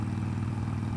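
Small five-speed motorcycle heard while riding, a steady low engine drone with a brief shift-like clatter, close and loud with no talk over it.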